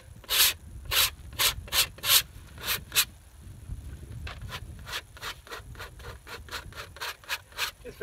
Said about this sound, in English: Very lightly scraping it